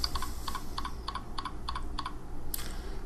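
Typing on a computer keyboard while naming a Cisco Meraki profile gives a steady run of light, evenly spaced key clicks over a low background hum, ending with one sharper tap.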